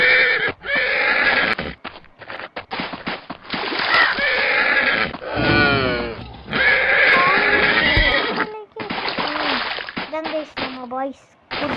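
Several horses in a video game neigh and whinny loudly again and again, with hooves clip-clopping and a voice talking over them throughout.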